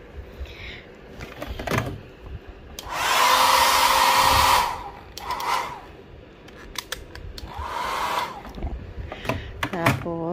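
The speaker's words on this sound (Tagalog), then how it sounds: "Yeah, here's the hair dryer." A wall-mounted hair dryer in a Tagaytay hotel room whirs in two loud bursts a few seconds apart, with clicks and handling noises around them and a person talking nearby.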